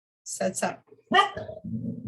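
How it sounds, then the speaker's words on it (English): A pet dog barks a few short times nearby in a home, brief yelps under and around a man's speech. "And that's my dog barking."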